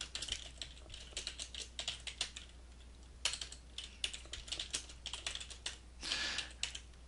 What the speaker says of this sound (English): As I type, my line expands.